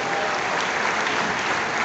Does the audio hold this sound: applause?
yes